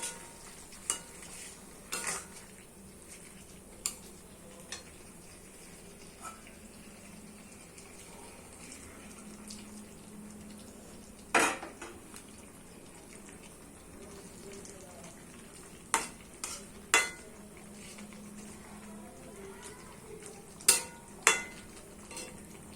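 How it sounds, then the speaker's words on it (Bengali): Soya masala gravy thinned with extra water bubbles in a pan, a quiet steady simmer broken by sharp spoon scrapes and knocks against the vessel at scattered moments. "এটাকে আমরা 2-3 মিনিট ঢাকা দিয়ে রেখে দেবো বা এইরকমভাবেই ফুটতে দেবো"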